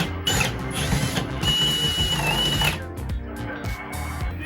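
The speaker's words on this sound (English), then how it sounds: "I went ahead and drilled my pocket hole screws into the holes" A power drill drives pocket hole screws into a wooden desk frame, its motor whirring in a rising and falling whine for about a second before stopping, close and loud, with short mechanical clicks around it.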